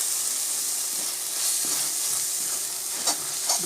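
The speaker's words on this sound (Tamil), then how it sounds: "மசாலாலாம் நல்லா வதக்க விட்டாச்சு" Masala of ground coriander and other spices for a soya chunk gravy fries in oil in a pan over a low flame, giving a steady close sizzle with soft stirring scrapes and occasional louder pops, no voices.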